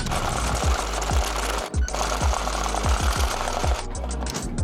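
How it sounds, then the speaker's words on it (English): A Melco EMT16X embroidery machine stitches a Richardson 112 hat, sped up into a rapid, relentless mechanical chatter with sharp repeated knocks, a brief pause, then more close, loud clattering. "it can embroider this whole hat if we do those things just right without any issues"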